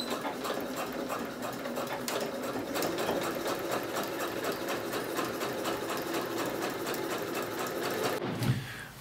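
A sewing machine stitches a trouser fly seam, running with a steady, rapid mechanical chatter throughout before a brief pause at the very end.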